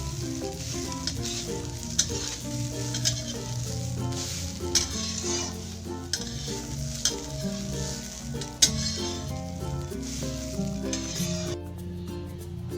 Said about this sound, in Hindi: अब हम इसे भूनेंगे ब्राउन होने तक।